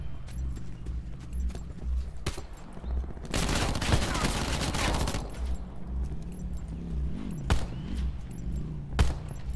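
Rapid gunfire in the Call of Duty Black Ops 4 Blackout beta, a dense burst of automatic shots lasting a couple of seconds amid scattered single shots and game ambience, with a low background hum throughout.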